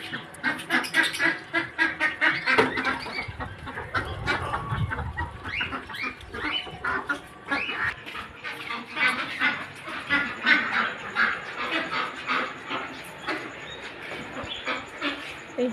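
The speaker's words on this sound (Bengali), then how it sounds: "আমার মেয়ে ছাদের এপার থেকে ওপরে হাঁসগুলো খাচ্ছে" A flock of ducks feeding on a house roof keeps up continuous busy quacking and squabbling calls, close and fairly loud, with overlapping voices and scattered sharper cries throughout.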